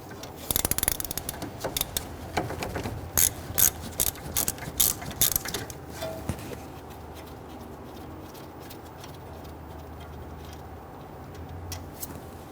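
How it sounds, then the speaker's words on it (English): A ratchet loosens the 13mm brake caliper bolts on a 2010-2019 Ford Taurus: rapid clicking bursts come close and loud for several seconds, then fade to a quiet garage hum. "You can use a wrench or ratchet. Loosen and remove these bolts and set them aside."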